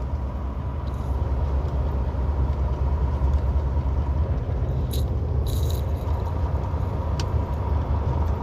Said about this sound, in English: See, these trucks are still trying to climb the hill.